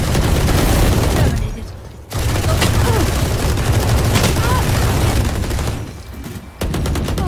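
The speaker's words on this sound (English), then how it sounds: "Swarm grenade out." Swarm grenade detonating in VALORANT amid dense game combat, a sustained crackling barrage of rapid bursts and gunfire that briefly drops out twice, loud and continuous.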